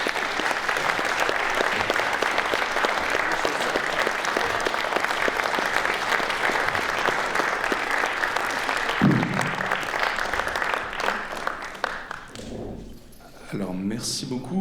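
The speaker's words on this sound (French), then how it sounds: "Merci de les applaudir à nouveau." Sustained, dense applause from a cinema audience at a premiere screening, loud and continuous for most of the stretch before thinning out, with a few voices and thumps near the end.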